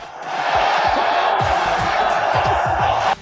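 An MMA arena crowd roars at full volume as a fighter celebrates, building quickly from the start into a sustained wall of cheering and yelling before cutting off abruptly near the end.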